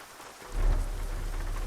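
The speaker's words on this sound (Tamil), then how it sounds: "இருட்டிடுச்சு, மழை வேற பெய்யுது." Steady rain falling in Euro Truck Simulator 2 with a Scania P truck, a continuous hiss that swells with a low rumble partway through, heard alone without talk.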